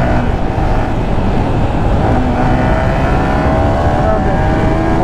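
A stock, all-original Yamaha R15 motorcycle accelerates hard on a rough, potholed road, its loud engine droning steadily under wind noise, then climbing in pitch near the end.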